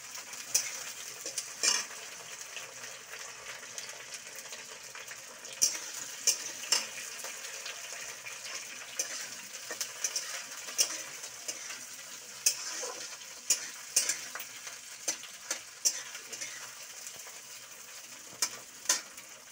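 Potatoes and pointed gourd fry in a pan for a mixed vegetable curry, a soft steady sizzle punctuated by frequent sharp clinks and scrapes of a utensil stirring against the pan, fairly quiet and close.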